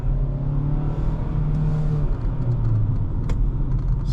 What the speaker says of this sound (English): in sport mode, I've realized it keeps the revs pretty high all the time